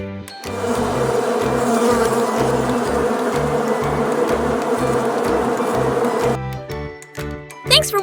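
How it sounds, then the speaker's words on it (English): A bee buzzes loudly and steadily at close range for about six seconds, then fades into a few scattered, fainter sounds at the end. "This is bee."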